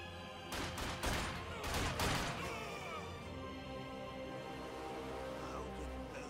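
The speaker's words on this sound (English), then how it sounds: "Why were they shooting at us?" Gunfire in the World War II strategy game Company of Heroes 2, a cluster of sharp overlapping shots and impacts early on, then a sustained rumbling battle bed with no talk.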